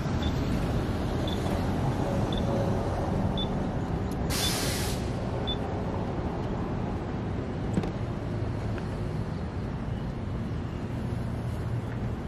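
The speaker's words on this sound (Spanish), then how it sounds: "ahí está pitando la motocicleta" A Yamaha N-MAX Connected 2022 scooter beeps after its proximity key is taken away: faint, evenly spaced short beeps, about one per second for several seconds, over a steady loud background rumble with a brief hissing burst.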